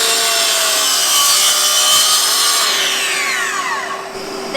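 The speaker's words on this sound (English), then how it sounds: "we have to make a bevel cut 45-degree angles with our miter saw" Miter saw making a 45-degree bevel cut through wood, a loud, close, continuous whining buzz as the blade bites, then the motor's pitch winds down at the end of the cut, no talking.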